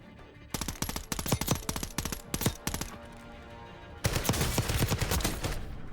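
Rapid bursts of automatic gunfire from the video game Call of Duty: Warzone, sharp repeated shots in clusters with brief gaps, then a dense sustained volley near the end, loud and close.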